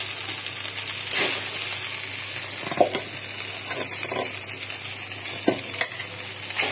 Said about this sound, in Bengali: এখন মাংসগুলো ভাজা ভাজা করে এর উপর আলুগুলো দিয়ে দিব